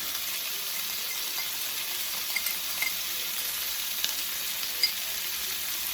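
Chopped fresh garlic sizzles steadily in a hot frying pan, a constant dense crackle and hiss with a few small pops, close and without talk.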